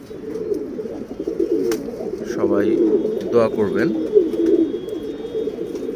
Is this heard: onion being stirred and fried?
no